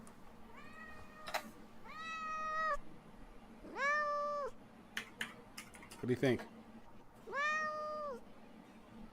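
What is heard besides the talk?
cat meowing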